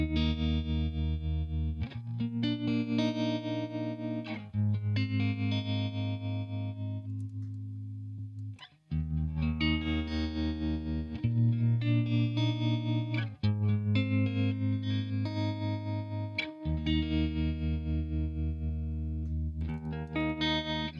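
Electric guitar chords played through an Analogman-modified BOSS TR-2 tremolo pedal, with sustained distorted chords rhythmically pulsing in volume, the passage played alone and repeated with short breaks between phrases.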